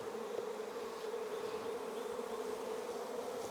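A large honey bee swarm being moved into a hive gives a dense, steady buzzing drone that stays constant and close throughout, with no talking over it.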